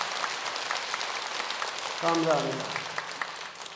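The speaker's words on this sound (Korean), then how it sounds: "여러분들이 지금 이 박수를 치는 거 보니까" A temple audience at a Jogyesa dharma talk applauding, a steady wash of many hands clapping throughout, with a voice briefly speaking over it midway.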